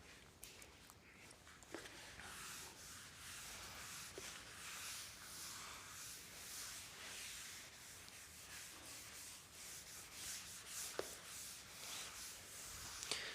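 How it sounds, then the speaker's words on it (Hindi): Steady scratchy rubbing as writing is wiped off a classroom board, a continuous close-up swishing with occasional small knocks, no voices over it. "मैं रब कर रहा हूँ"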